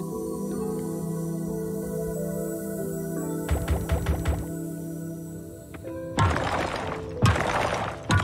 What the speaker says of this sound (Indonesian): Meledak tiga.